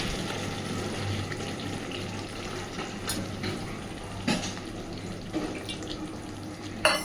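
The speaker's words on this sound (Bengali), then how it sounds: "এইবার ওপর থেকে আর একটু জল দেব" Water poured from above into pangas fish frying with spices in oil, a steady splashing, bubbling sizzle close by with occasional clinks and taps, no talking.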